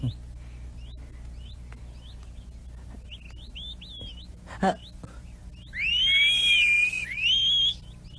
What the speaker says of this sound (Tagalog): Siya ba yung sumisipol kanina?